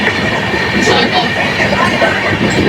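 The 13153 Gour Express night train runs from Kolkata to Malda with a loud, steady rumble of wheels and carriages, close and continuous throughout.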